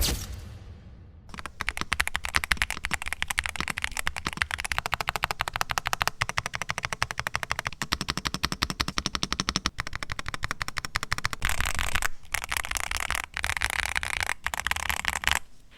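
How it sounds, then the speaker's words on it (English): Milk-switch keys on a Yunzii B75 Pro mechanical keyboard are typed in fast, continuous bursts, giving close, dense clacky clicks with brief pauses near the end. "These milk switches sound very creamy, a little bit on the clacky side, and a little less of the thok"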